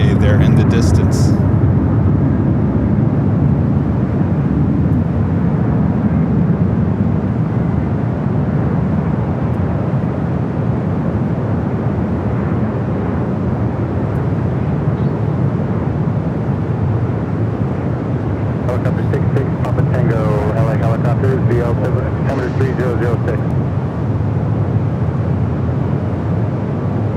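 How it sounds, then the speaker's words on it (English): A Delta Air Lines Airbus A350-900 arriving from Tokyo Haneda passes on short final to runway 24R at LAX, a steady broadband jet roar that holds loud throughout while a voice talks over it. "Delta Airlines Flight 8 coming up from Tokyo, Haneda, A350-900. Short final now for 2-4 right."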